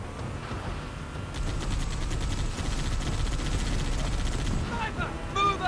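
Rapid automatic gunfire from a Halo 3 battle on Tsavo Highway, a dense burst of repeated shots holding steady for several seconds after a quieter start, with scattered game effects near the end.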